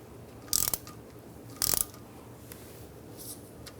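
A ratchet snugging a bolt on a Ram 1500 rear axle gives two short, loud bursts of rapid clicking about a second apart, followed by a faint tick and a quiet tail.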